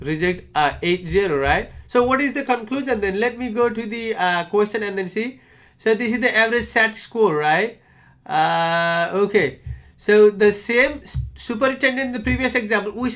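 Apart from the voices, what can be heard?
No distinct noise like a dog, phone or traffic.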